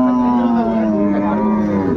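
A dairy cow lows at a busy rural cattle market, one long loud drawn-out moo held for about two seconds and trailing off, close by over faint crowd murmur.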